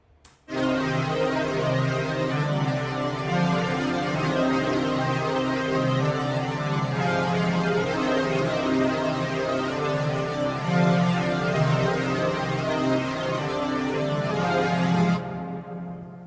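A rich, sustained synthesizer pattern in the style of a producer's signature sound, with layered tones and a pulsing low line, loud and continuous for about fifteen seconds before cutting off.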